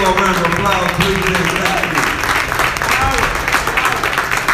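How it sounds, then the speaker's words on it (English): Applause and cheering from an audience at an event featuring the Black national anthem, steady clapping mixed with voices and crowd chatter throughout. "Let me get a little round of applause,"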